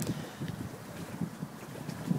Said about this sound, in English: I wonder why it's so windy right now.